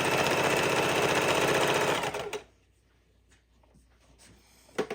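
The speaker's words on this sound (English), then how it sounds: "roll it. It'll go under the throat of the sewing machine easier." A sewing machine stitches a fidget quilt in a fast, even mechanical rattle for about two seconds, then stops, leaving quiet handling noises and a small clack at the end.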